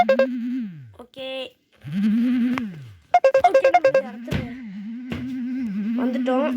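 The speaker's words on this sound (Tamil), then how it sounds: "இப்போ யாரோ ஃபோன் அடிக்கிறாங்க" A phone rings with a warbling, synthetic ringtone melody made of repeated tones and short beeping bursts, fairly close and continuing throughout.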